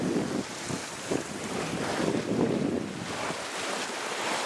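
A sailboat running in the trade winds with the wind aft of the beam, a steady rush of wind buffeting the microphone over water sloshing and waves washing against the hull, with no talking.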